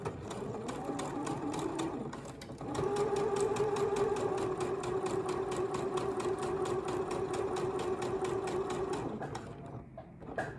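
A sewing machine stitching a dart on a swimsuit runs at a fast even pulse for several seconds, starting softer, then steady and loud before stopping near the end.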